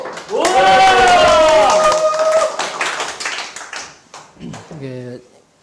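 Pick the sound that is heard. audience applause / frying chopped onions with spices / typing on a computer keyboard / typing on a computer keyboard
audience applause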